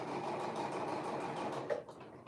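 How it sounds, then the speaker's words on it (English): A sewing machine stitching a jacket pocket closed runs in a steady, close whirring hum at a 3/8-inch seam, then stops briefly with a small mechanical clunk near the end. "I'm sewing the pocket closed now."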